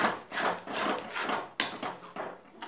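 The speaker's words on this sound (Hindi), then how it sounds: "देखिए, अच्छे से आपको इसे चलाते रहना है और लम्स नहीं पड़ना चाहिए।" Gram flour batter with coriander is stirred and scraped around a kadhai over a low flame, giving repeated rhythmic rubbing and scraping strokes close by, with one sharper knock partway through.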